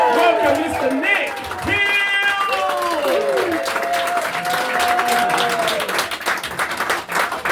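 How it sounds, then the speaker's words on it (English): A stand-up comedy audience at a pub gig in Lower Brailes breaks into loud, sustained applause with cheers and whoops welcoming a comedian to the stage, steady and dense throughout. "Now double that applause and the cheering."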